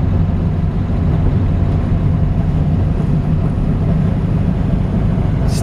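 A 1967 VW Beetle with a sunroof drives along, its engine and road noise forming a steady, loud, low droning rumble that holds constant throughout.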